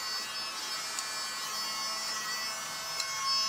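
A small, tiny handheld vacuum cleaner runs steadily with a thin, high-pitched electric whine, close and alone, with no talk over it.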